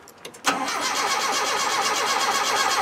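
A 2.25 petrol Land Rover Defender 90 engine with starting trouble cranks over, opening with a few short clicks before a steady, loud, rhythmic churning of the starter motor, close by and without talk.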